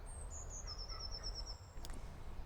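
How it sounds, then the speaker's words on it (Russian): Cranes calling over the remnants of a drained swamp, a series of high, clear warbling calls in quick succession, fairly distant and faint over a low rumbling background. "Я не уверена, но, по-моему, это журавли"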